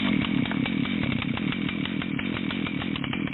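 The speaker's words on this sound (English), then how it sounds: "When you're starting a chainsaw, make sure the chain brake is engaged and you have 3 points of contact." A chainsaw runs steadily at a loud, buzzing idle-to-high drone, its engine chattering evenly and close, with no break in the roar.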